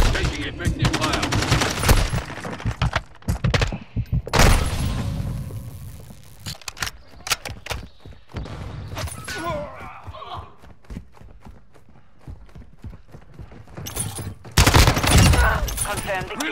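Rapid gunfire in Call of Duty: Modern Warfare II, bursts of automatic and single shots rattling close and loud, with heavy volleys near the start and end and voices talking between them.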